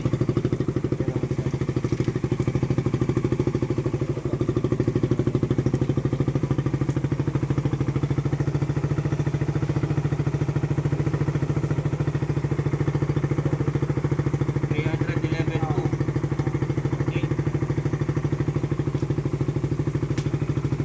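A motorcycle engine runs steadily at idle for about twenty seconds, a constant mid-pitched thrum with light mechanical clatter, close and moderately loud with no talking over it.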